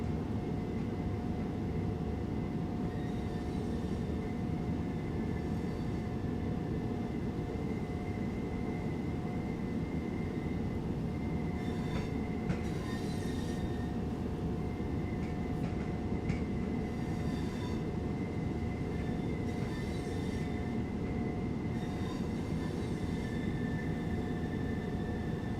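Modern freight locomotive in Train Sim World 4 rumbling along steadily for a long stretch, a constant low drone with faint higher tones and occasional soft clanks, moving slowly, with no voices.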